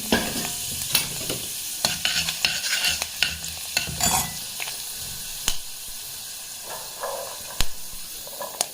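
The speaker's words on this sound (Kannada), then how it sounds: "ಸಾಸಿವೆ ಹಾಗೆ ಸ್ವಲ್ಪ ಮೆಂತ್ಯ ಮತ್ತು ಒಣಮೆಣಸಿನಕಾಯಿ ಮುರಿದ್ಬಿಟ್ಟು ತಟ್ಟೆ ಮೇಲೆ ಇಟ್ಕೊಂಡಿದ್ದೆ, ಅದು ಹಾಕ್ಬಿಡ್ತೀನಿ." Mustard seeds, fenugreek and broken dried red chili crackle and sizzle in hot oil during a home-style tempering, with sharp spitting pops and clinks of stirring over a steady frying hiss, close and without talk.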